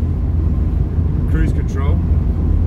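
A 2006 Mini Cooper S convertible cruises in sixth gear, heard from inside as a steady, loud low road and engine drone with broadband wind hiss. A brief voice sounds partway through.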